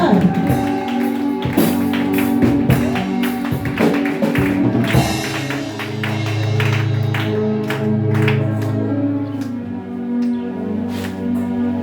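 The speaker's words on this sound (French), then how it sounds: "Donne une forte acclamation à celui qui est" A church congregation at a French-language worship service claps and cheers in acclamation, with dense rhythmic clapping and crowd voices over sustained music, while a preacher's voice rises above the noise.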